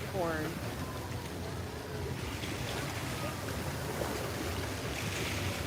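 Waves and churning water from a large cruise ship's wake pound steadily beside the vessel during a sail-away parade out of the Port of Miami, heard under wind buffeting and a voice speaking.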